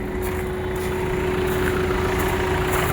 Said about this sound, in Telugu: ఇంజన్ సౌండ్ వినిపిస్తా చూడండి సార్.